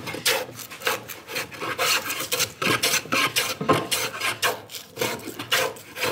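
A hand plane is worked across the grain of a wooden board, giving a rapid series of close, raspy shaving strokes in an uneven rhythm, with no talk.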